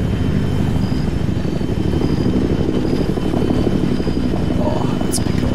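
Helicopter in the military video game Arma 3, a loud steady rotor and engine drone that fills the whole stretch without letup, close and constant, with a brief high tone near the end.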